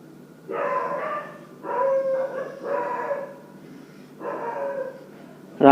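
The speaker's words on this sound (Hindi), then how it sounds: "रात का टाइम है तो कुत्तों की आवाज़ थोड़ी बहुत आ रही होगी" Dogs barking at night in the distance, several separate bursts of barks and yips with short pauses between them, heard alone without talk.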